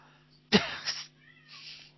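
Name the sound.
cat meowing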